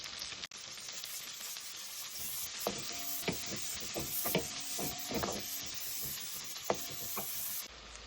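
Scallion and onion hit hot pork fat with a constant hissing sizzle. Several distinct clacks of stirring with a utensil punctuate the quiet, close frying, and no voices are present.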